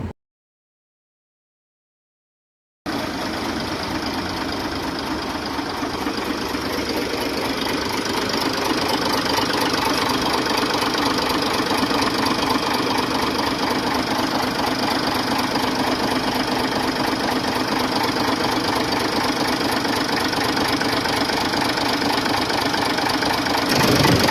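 Idling engine with air in the fuel line knocks steadily after a brief silence, a loud continuous rattling run with a rhythmic knock and vibration, close up and without speech.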